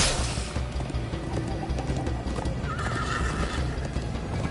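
A horse whinnies and gallops in Minecraft Story Mode, rapid hoofbeats pounding steadily under a loud, dense game soundscape with a neigh rising partway through, no speech.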